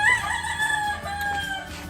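Chickens in a yard: a rooster crows nearby, rising and holding, while hens cluck around it, fairly loud and close with no talk.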